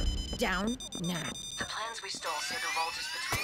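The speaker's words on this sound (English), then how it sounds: "That's the alarm." In PAYDAY 3, a bank alarm's electronic tones wail in rising sweeps beneath gruff shouted voices during a heist, the alarm faint but steady throughout.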